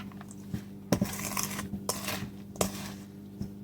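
Frozen fruit being tossed in a bowl to coat it, with a handful of sharp clinks and rattles of fruit against the bowl spaced over a few seconds, close and moderately loud, no talking.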